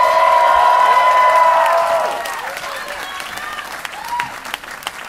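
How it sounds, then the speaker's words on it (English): A club crowd at Zebulon applauds a live band, clapping and cheering loudly at first over lingering ringing tones, then fading to scattered claps and a few whoops. "can we get a round of applause for this amazing band?"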